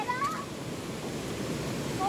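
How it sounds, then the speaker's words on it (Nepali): A village river stream beside a trout resort flows with a steady rushing hiss, continuous and close, with a couple of faint high chirps over the water noise. "अनि यता चाहिँ यस्तो खोला छ"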